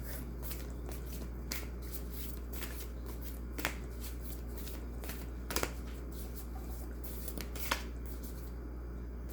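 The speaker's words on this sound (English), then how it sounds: "These are kind of big, so it's kind of hard to shuffle." Large cards being shuffled by hand, a steady papery riffling and rustling with occasional sharper slaps, close and fairly quiet.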